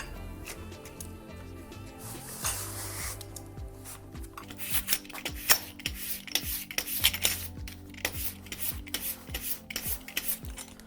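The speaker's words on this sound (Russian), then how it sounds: "Желательно после покупки этой площадки в магазине выровнять ее при помощи наждачки." A plastering float is rubbed flat on sandpaper, giving repeated rasping scrape strokes in an uneven rhythm, close and fairly loud, with clicks and knocks between passes and no talking.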